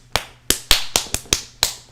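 A voice imitates a prison fist fight with slaps: eight sharp, close slapping smacks in quick, uneven succession, loud against silence.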